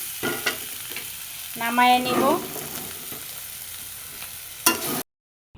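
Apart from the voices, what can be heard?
eggplant and sweet potato frying and being stirred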